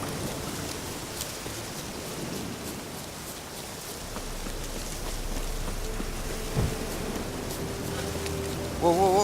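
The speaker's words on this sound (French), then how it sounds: "il y a la pluie" Rain falling in The Witcher 3 video game, a steady broadband hiss of downpour through the whole stretch, with a faint low rumble and a brief tonal game sound near the end.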